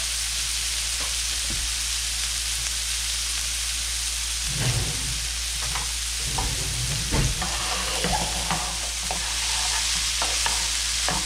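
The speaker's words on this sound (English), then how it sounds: "we're going to give these a light saute" Vegetables sautéing in neutral oil in a pan, a constant close hiss of frying with scattered stirring clatters and scrapes partway through, no talking.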